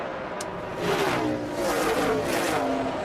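NASCAR Craftsman Truck Series race trucks roar past at speed, their engines swelling and fading in a steady high-pitched drone with a wash of crowd and track noise.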